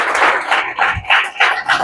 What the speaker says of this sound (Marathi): तर एकदा टाळ्या वाजवून त्यांचं स्वागत करा.